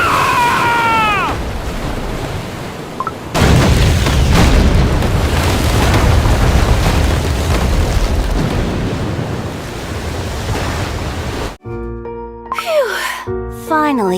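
Cannon fire and explosions on a ship in the Cookie Run Kingdom mermaid's tale story play as a long, loud, rumbling roar of booms, with brief cartoonish game voices and effects before and after.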